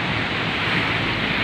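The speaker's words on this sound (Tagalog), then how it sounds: "Kabila lang ang medyo malakas ang alon." Steady broadband rush of surf with wind noise, continuous and fairly loud, no voices.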